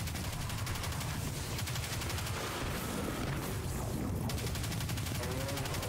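Sustained rapid gunfire from a Destiny 2 firefight, bursts and volleys running continuously through the whole stretch at fairly close range, with a short sweeping whoosh near the end.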